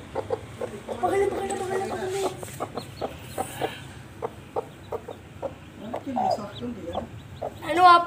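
A mother hen protecting her chicks clucks in short, regular near pecks of sound, with a voice talking at moments and a sharper call near the end.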